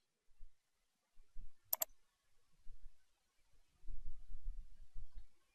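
A single sharp computer mouse click sounds once, close and crisp, amid faint low thumps and handling noise around a credit card processing screen.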